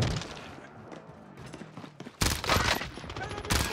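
Rapid bursts of video game gunfire crackle in the second half, loud clustered volleys after a quieter stretch of game ambience and low background sound.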